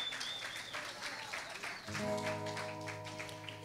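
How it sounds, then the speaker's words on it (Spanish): An audience at the Acustika 2017 acoustic music event claps steadily, fairly faint and spread out, before a sustained guitar chord rings in under the applause. "Unas palmas a todos los que están participando esta tarde."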